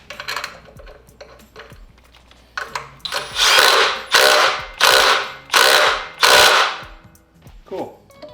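A ratchet tightens a 3/8-16 bolt into the power steering pump pulley during an LS engine accessory drive install in a Miata, with several loud, close bursts of rapid clicking separated by short pauses.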